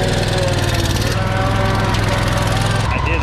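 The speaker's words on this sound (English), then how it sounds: "We got a mower." An Exmark Lazer Z zero-turn lawn mower runs close by with a loud, steady engine drone that dips slightly in pitch near the end, and nothing else is heard over it.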